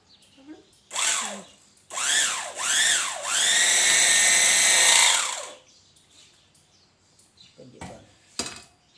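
An electric sewing machine stitches a parcel closed in several loud mechanical bursts of about a second or more each, with a long continuous run in the middle, then quieter rustling and brief knocks.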